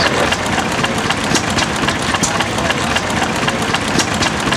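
An old Chicago-made stationary engine runs at slow revs, driving an Apollo dairy pump, giving a steady, close, continuous chugging throb with no talk over it.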